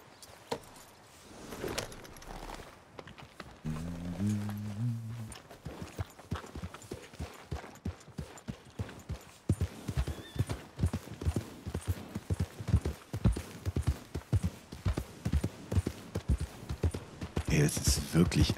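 Horse hooves clip-clopping at a steady walking pace in Red Dead Redemption 2, a regular rhythm of soft thuds running through the clip, with someone talking over it much of the time.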